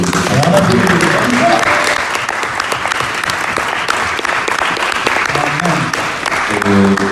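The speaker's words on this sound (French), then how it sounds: "Je vais vous demander d'applaudir s'il vous plaît." A church congregation applauds a pastor's testimony with loud, dense, continuous clapping that fills the room, with scattered voices and cheers mixed in.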